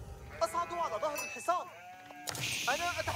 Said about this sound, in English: Joke's on him. I stole his sheep.